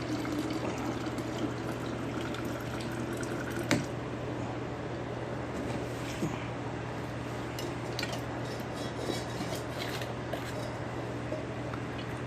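Homemade plant nutrient solution with monopotassium phosphate being poured back into a container, a steady continuous liquid pour with a faint low hum underneath and one brief clink partway through.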